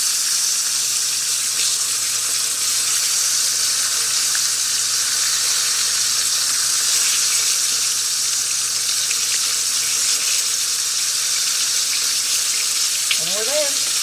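Thin cube steaks fry in a pan with a loud, constant sizzle that holds steady and close, with a faint squeal near the end.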